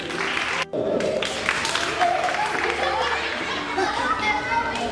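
Clapping from an audience at a film event, lively and uneven, mixed with children's voices and chatter, briefly cutting out near the start before resuming.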